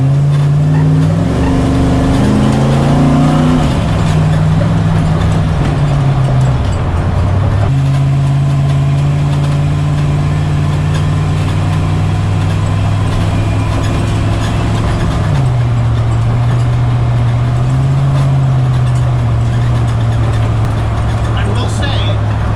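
A DIVCO truck engine holds a loud, steady idle, rising briefly into a rev early on and dropping back, with a slight pitch shift around the midpoint.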